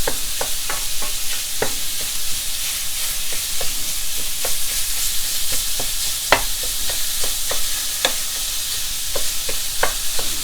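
Stuffing filling for stuffed mushrooms sizzles steadily in a hot pan while a utensil breaks it apart, with frequent sharp scraping taps over the constant loud frying hiss.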